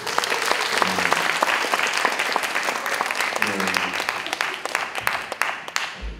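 An audience at a Baptist pastors' spirituality seminar claps to welcome the speaker, a sustained wash of applause with individual claps standing out near the front, thinning toward the end while a voice breaks through briefly.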